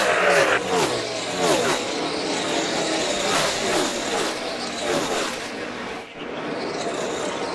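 NASCAR Cup Series race cars in the 2017 Monster Energy Open roar past on the track in a continuous loud engine drone with rising and falling passes, under a commentator's voice.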